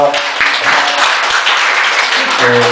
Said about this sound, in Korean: 박수 받았습니다.